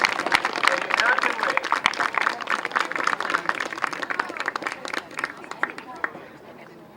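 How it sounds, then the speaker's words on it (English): Parents clap for their White Sox youth baseball team at a junior world series awards gathering, a crowd of uneven, crisp claps running beneath someone talking over a loudspeaker and slowly thinning out. "let's have a big round of applause for your White Sox"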